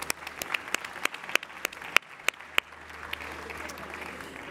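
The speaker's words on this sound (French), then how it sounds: "également sous vos applaudissements" Audience at a Paris e-marketing conference applauds to welcome a speaker onstage, with a few sharp, distinct claps standing out over a steady wash of clapping that settles into a softer, even patter.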